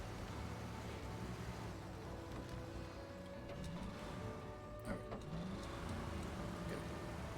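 A truck in Expeditions: A MudRunner Game drives along a rocky shoreline and into shallow water, its engine droning steadily throughout, with brief knocks and scrapes near the middle.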